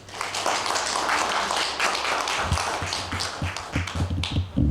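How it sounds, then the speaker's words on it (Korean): A church congregation applauds, a steady wash of claps under a low hum, giving way to sharper, scattered individual claps toward the end. "박수 한번 더 해주세요"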